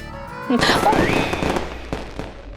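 Firecrackers go off during a scene in a Hindi TV drama: a loud whistling burst followed by scattered sharp pops and crackles, with a wavering tonal whine over them.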